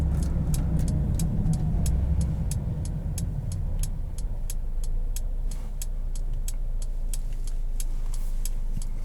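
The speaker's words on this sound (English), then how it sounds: "I am driving it in sport mode." Steady engine drone from inside a moving 2021 Mercedes-Benz GLB250 driven in sport mode, low and constant, with faint regular ticking clicks throughout.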